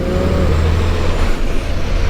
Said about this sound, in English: I'm gonna wait for this truck to go by.